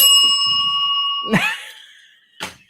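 A bell rings at a bar show, with a bright sustained ring at first, then two quick dings struck later, close and loud with no talk over it.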